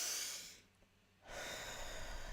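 Deep breathing to de-stress: a long, loud exhale, a brief pause, then a strong, close inhale, with no voice.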